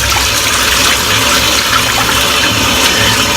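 Shaving brush rinsed under a running tap, a loud steady rush and splash of water close by, continuous throughout with no talking.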